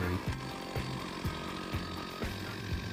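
A chainsaw engine rises and falls in repeated revving bursts, loud and close, with regular surges as it cuts tree limbs.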